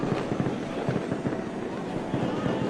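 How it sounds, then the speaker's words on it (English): Fireworks at an outdoor car festival crackle and pop densely and continuously, a steady barrage of distant bursts blending into a loud, noisy wash. "Sounds like fireworks."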